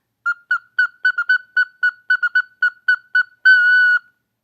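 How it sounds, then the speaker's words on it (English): A recorder head joint blown on its own gives a string of about a dozen short, high, breathy whistling notes in quick rhythm, then one held tone, close and clear with no talking. "it's going to make a really high-pitched sound"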